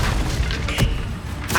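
A Confringo blasting spell in Hogwarts Legacy goes off in short booming bursts, a loud thump near the middle and another blast at the end over a constant crackling game background.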